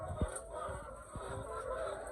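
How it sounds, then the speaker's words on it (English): Faint, steady clucking from many laying hens in a poultry shed, a dense background chorus with a few brief sharper clucks. "These chickens, they are so loud, you guys."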